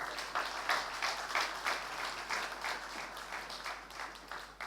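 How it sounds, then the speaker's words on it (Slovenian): A crowd applauds steadily at a regional fire brigade association's 20th anniversary celebration in Medvode, Slovenia, a dense wash of clapping at moderate distance that carries on without a break. "še en aplavz, prosim."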